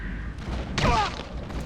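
A single sniper shot booms in the video game Metal Gear Solid 5, a sharp loud crack with a rumbling tail over low game ambience.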